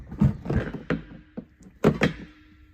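A propane tank cover held by a small wing nut is worked loose and lifted off an R-Pod camper frame, giving a series of close hollow thunks and knocks, with two louder bangs near the end.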